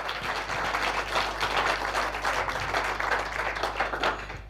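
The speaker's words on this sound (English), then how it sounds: "let's give him a big round of applause" An audience gives a sustained round of applause, a dense, even wash of many hands clapping that holds steady throughout.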